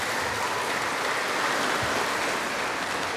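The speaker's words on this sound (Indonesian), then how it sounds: "Kita beri aplaus untuk kita semua" Congregation applauding inside a church during a Maundy Thursday evening service, a steady, dense wash of clapping holding evenly throughout with no voices over it.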